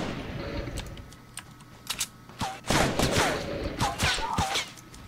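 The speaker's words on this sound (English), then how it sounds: "Oh, somebody's shooting." Rapid bursts of gunfire from a Fortnite match, sharp clustered shots and rattling volleys at moderate distance with game effects around them, no voices.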